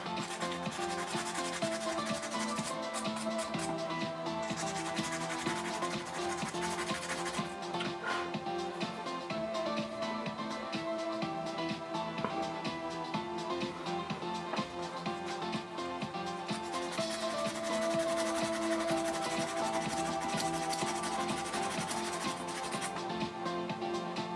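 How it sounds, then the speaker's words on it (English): Continuous abrasive sanding on a wig or hairpiece part for a Star Trek Jessica Rabbit costume, a steady close rubbing scrape that runs without a break and with no talk. "Sand this part down a little more."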